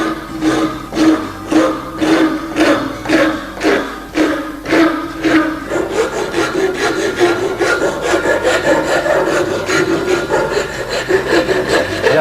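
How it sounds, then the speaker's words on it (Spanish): A half-round rasp shapes a wooden wheelbarrow handle with steady back-and-forth rasping, rhythmic strokes roughly twice a second, close and loud, continuing without pause. "con la media caña vamos a ir dándole poco a poco"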